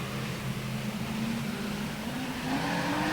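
Super sedan race cars launch at the start of a race at Newcastle Motordrome, a massed, fairly distant engine roar holding steady, then building louder and rising in pitch near the end.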